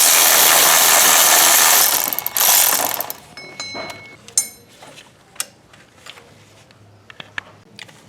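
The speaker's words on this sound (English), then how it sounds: "so you could put your 13mm socket through to get the 3 bolts that are in here" A 13mm socket and ratchet loosens the three bolts holding a pulley, giving a burst of broadband ratcheting first, then a run of separate sharp metallic clicks and taps.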